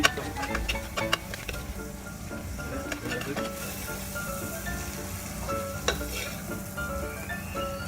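Meat for tantuni frying in a pan, a loud, continuous sizzle broken by metallic scraping and clacking of stirring utensils, close up and without talk.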